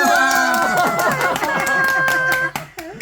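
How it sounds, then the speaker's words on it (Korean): Family members clap along at a young child's birthday celebration, with rhythmic hand claps mixed under loud singing and excited voices close by, ending in a brief lull. "박수 도연이 박수"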